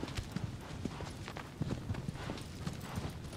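A horse's hooves clip-clop in a steady walking rhythm across ground in the Shadow of the Colossus PS4 remake, close and moderately loud over a soft ambient background.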